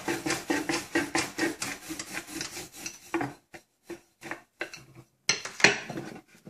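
Roti dough rolled out with a rolling pin on a board, a close, rhythmic series of scraping, rubbing strokes that are fast at first, then slow into sparser, separated passes, with no talking.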